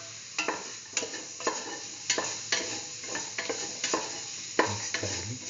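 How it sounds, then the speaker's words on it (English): Hash brown pieces are mixed in a hot pan, a soft sizzle broken by repeated scraping strokes of a utensil at an uneven rhythm, close and fairly quiet. "Put in the hash brown pieces. Mix."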